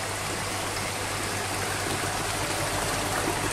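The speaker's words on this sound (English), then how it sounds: "open the valve and let the water flow" Water rushes steadily through an opened valve into a hydraulics channel, a loud, even, broadband gush with a low hum underneath, continuous and close with no pauses.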